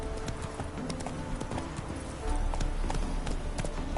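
Roach the horse galloping in The Witcher 3 on PS4 Pro, rapid close hoofbeats with a faint whinny, growing louder partway through over a steady game background.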